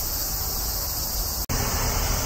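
Large brown cicadas (aburazemi) in a rural mountain forest give off a loud, continuous sizzling drone that fills the scene without pause, apart from one split-second dropout.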